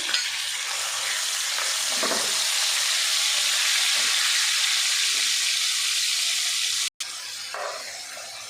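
Steady loud sizzling of chopped tomatoes frying with ginger and garlic in a hot pan, with occasional stirring scrapes and a brief cut to silence near the end.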